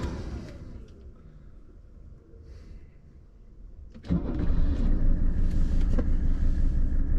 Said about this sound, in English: So we'll get this car started.